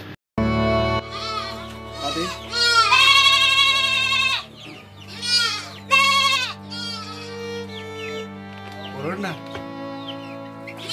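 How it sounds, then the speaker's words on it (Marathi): Young goats and lambs bleat repeatedly on a hilltop plateau in Sindhudurg, several loud high cries close by, with a steady low hum underneath and brief stretches of background voices. "इथली ज्या सगळ्या शेळ्या मेंढर आहेत सगळीच चरायला गेलेत आणि छोटी छोटी त्यांची पिल्ल फक्त आहेत"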